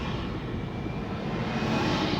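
Tractor engine passing along a road near a roundabout, a steady loud low-frequency rumble with broadband noise that holds throughout, with no voices.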